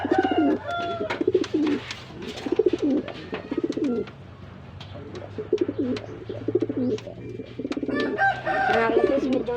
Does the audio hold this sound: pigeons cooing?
yes